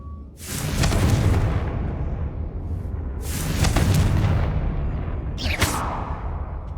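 Confringo blasting spell in Hogwarts Legacy, two deep booming explosions a few seconds apart with long rumbling tails, then a sharp crack near the end, loud and heavy in the low end.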